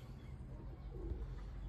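Pigeons for sale give soft, low cooing, steady and faint, under a constant low background hum with no talk.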